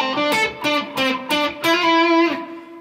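An electric guitar plays the opening line of the Bocchi the Rock main theme in standard tuning: a quick run of rhythmic picked notes ending on a longer held note, close and alone.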